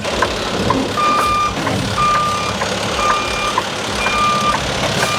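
A truck's backup alarm beeps steadily at a regular rhythm, about one beep per second, over a loud continuous engine rumble as it reverses out of a landfill lot onto the road, with no voices.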